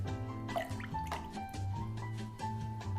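White vinegar poured into a lemon gelatin and cold water mixture, giving a soft trickling, dripping liquid sound over about three seconds, quiet and close, with a low steady hum underneath.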